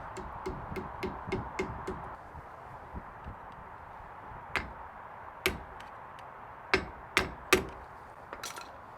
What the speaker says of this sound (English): So I'm going to tap that cotter pin in right there and call it good.